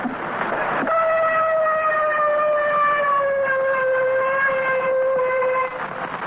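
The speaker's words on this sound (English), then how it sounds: "There's the siren signal." A steady whistle-like siren signal ending General Quarters aboard a World War II ship on D-Day blows one long sustained tone, slowly sagging in pitch, over a constant background rumble.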